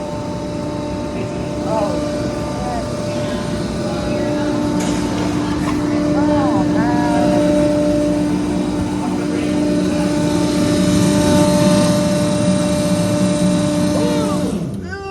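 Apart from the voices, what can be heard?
vertical baler running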